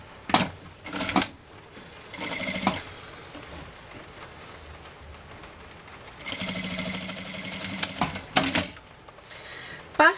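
A sewing machine stitches a seam on a fabric bag in several short motorized bursts, the longest running nearly two seconds, with quiet pauses between runs.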